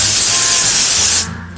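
A loud, close burst of cooking oil spray hisses onto air fryer trays for over a second, then cuts off abruptly.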